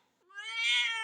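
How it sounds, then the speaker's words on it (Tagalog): A noisy pet cat named Ipot-Pot lets out a single loud, drawn-out meow that rises and holds strongly, close and alone. "Gusto nyo ng maingay na pusa?"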